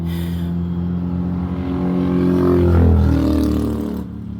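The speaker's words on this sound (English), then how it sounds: "motorcycle" A motor vehicle engine rumbles and swells in loudness as it passes close by, then fades off, with no talking.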